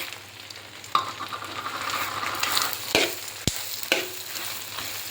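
Coriander seeds roasting in a pan alongside dried red chillies, a steady dry sizzle with scraping stirs and several sharp knocks of the spoon against the pan, close and alone.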